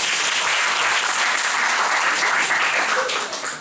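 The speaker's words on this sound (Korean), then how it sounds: "박수 한번 쳐드릴게요" A church congregation applauds together, a loud, steady wash of many hands clapping that continues evenly for several seconds, tapering slightly at the end.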